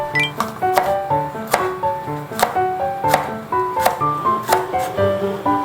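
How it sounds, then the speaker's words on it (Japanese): A knife slicing a green bell pepper into rings: sharp, evenly spaced chops against a board, about nine crisp strikes in a steady rhythm, close and clear with no talking. "ピーマンは輪切りにしていきます。"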